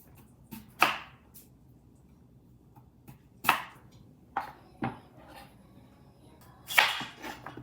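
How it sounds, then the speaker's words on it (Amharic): A knife chops onion, peppers and garlic on a board for potato sandwiches, giving a handful of sharp, separate cuts spaced irregularly over quiet background. "እንደዚህ እያደረግን እንከትፈዋለን"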